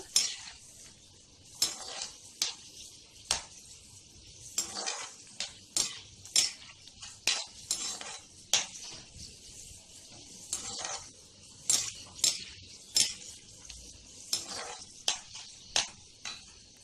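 Cashews and raisins frying in a pan for sweet pongal, with a quiet sizzle beneath repeated sharp clinks and scrapes of a spoon against the pan, close by and without talk.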